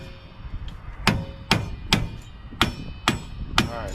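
A hammer taps a chisel in a steady series of six or seven sharp metallic strikes, evenly spaced and close by, with a quiet background and no voices.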